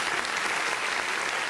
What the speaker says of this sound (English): Give us a round of applause again.